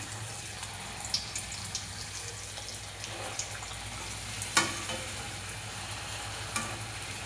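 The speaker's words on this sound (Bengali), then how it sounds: "ফুচকাগুলো দেখুন কিভাবে ফুলছে। এইভাবে এক এক করে ভেজে আনছি।" Fuchka puris puffing up in hot oil at home, a faint steady sizzle with occasional crackling pops and a sharper spatter midway, carrying on alone without talk.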